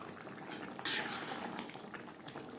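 A potato and pea gravy bubbles gently in a pan on a gas flame, soft steady popping and simmering with a brief louder splash of liquid near the start.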